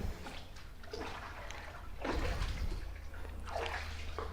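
Knee-deep floodwater sloshes and splashes in a hospital ward as someone wades through it, with repeated surges of churning water.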